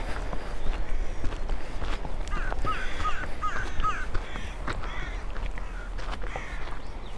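Crows caw repeatedly along a coastline, their harsh calls coming in short bursts at middle distance over steady wind and footsteps on the ground.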